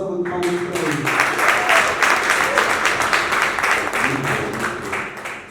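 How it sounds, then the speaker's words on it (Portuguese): An audience at a hip hop talk event applauds, a dense sustained wash of clapping from a crowd filling the whole stretch at steady loudness. "uma salva de palmas para ele"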